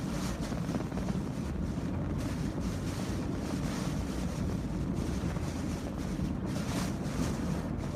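Damaging winds batter Key Largo, a constant heavy roar buffeting the microphone with a deep, rumbling rush that never lets up, and no voices are heard.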